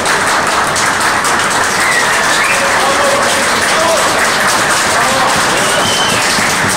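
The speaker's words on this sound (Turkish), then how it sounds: "Bayrağımıza yüksek bir alkış yok mu arkadaşlar?" Loud, sustained applause from a large crowd of Turkish citizens evacuated from Ukraine, cheering their flag: a dense, continuous roar of clapping close by, with voices mixed in.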